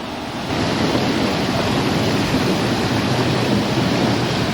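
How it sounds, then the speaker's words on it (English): Basaseachi Falls in Mexico roars in a dense, continuous wash of rushing water, loud and steady throughout with no voices. "it's right over there that the water spills off"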